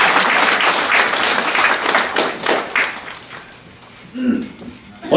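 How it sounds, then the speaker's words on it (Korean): An audience applauds the event's host at a lecture, loud dense clapping that fades after a few seconds into quieter room sound, with a voice speaking near the end. "우리 사회자 사장님한테 박수 좀 한번 해주세요."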